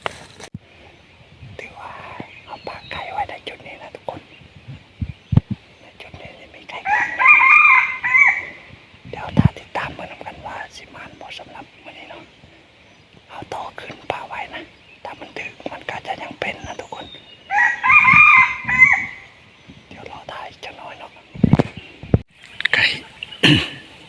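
Roosters crow in two clear bursts, with softer clucking and scattered rustling in between, heard up close.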